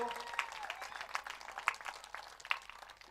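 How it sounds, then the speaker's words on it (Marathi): Audience applause at a cricket tournament prize distribution, a steady wash of many hands clapping with some crowd noise, while people talk over it. "चला जोरदार टाळ्या वाजवा मित्रांनो"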